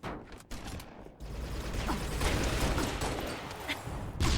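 Grenades blast in Halo: Reach, a loud rumbling explosion swelling into continuous booming noise after a couple of sharp early hits, with no voices.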